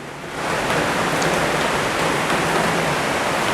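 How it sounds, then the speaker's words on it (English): Very heavy rain pours down in a steady, dense broadband hiss that swells slightly at the start and then holds loud and unbroken throughout, with no voices. "Because of very heavy rain."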